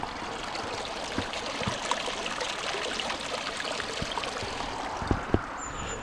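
Water flowing steadily near the grounds of Barton Seagrave castle, a continuous stream-like rush with a few faint clicks and knocks over it, heard outdoors.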